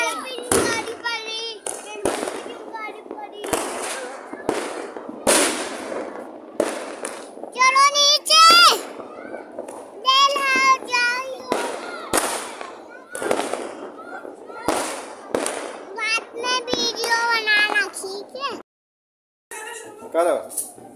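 Diwali fireworks and firecrackers go off nearby, with repeated sharp bangs and crackles plus whistling, rising and falling fizzes, while children and adults chatter and call out throughout.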